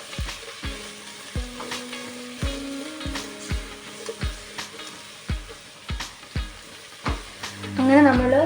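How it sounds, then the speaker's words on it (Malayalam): Onions sautéing with whole spices such as cardamom for an egg biryani, a steady sizzle in the pan broken by regular scraping stir strokes about once a second, close and fairly loud. "അങ്ങനെ നമ്മൾ സവാള നല്ല വഴറ്റിക്കൊണ്ടിരിക്കുക."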